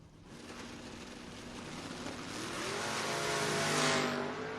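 A third-generation Camaro and a long-roof Vega wagon launch at a drag strip, a dense, continuous engine roar that builds steadily and peaks near the end, with no voices over it.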